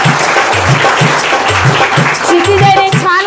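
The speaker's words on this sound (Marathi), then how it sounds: "व्हेरी गुड, टाळ्या वाजवा" Children clap together in a class after a correct answer about Pune's Kasba Ganpati. Lively applause runs throughout over a repeating low thumping beat, and a voice rises near the end.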